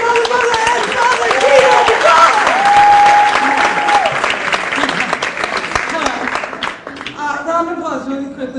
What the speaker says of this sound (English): Round of applause really quickly.